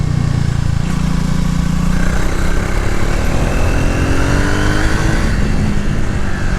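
A 2026 Triumph Speed motorcycle engine accelerates hard in fourth gear, a loud, continuous roar rising steadily in pitch over rushing wind, with no voices.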